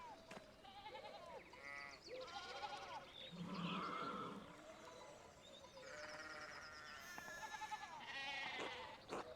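Sheep on a farm in the medieval-set video game Pentiment, bleating repeatedly, a wavering chorus of several animals at moderate distance, quiet overall, with a few brief honk-like calls.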